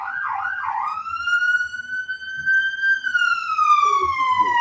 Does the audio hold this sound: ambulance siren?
yes